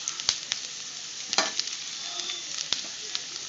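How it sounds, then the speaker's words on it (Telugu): Moringa leaves frying in a pan, a soft steady sizzle punctuated by sharp crackles and pops as they are stirred, close and fairly quiet with no talking. "ఇవి కంప్లీట్గా మంచిగా వేగే వరకు గోలించుకోండి."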